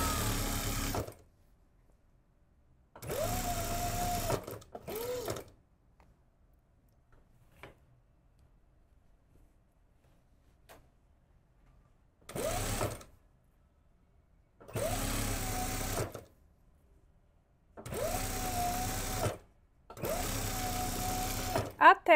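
A sewing machine runs in several separate bursts of stitching as elastic is sewn along a jacket seam, each run a steady close mechanical whirr lasting one to two seconds, with quiet pauses between them.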